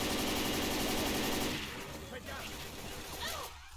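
Rapid automatic gunfire from a Left 4 Dead 2 co-op zombie shooter, a loud dense burst that fades into scattered shots and game noise, with voices in the background.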